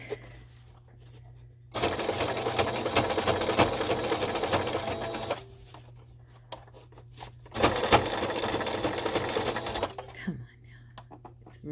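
A home sewing machine stitching fabric for a ring-bound folder cover, running in two steady bursts of several seconds each with quiet pauses between, close and moderately loud.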